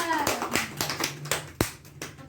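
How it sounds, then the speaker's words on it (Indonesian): A class of students claps in short irregular bursts, with several distinct sharp claps and a few quieter taps, fairly close, and no one speaking in the clip. "tepuk tangan"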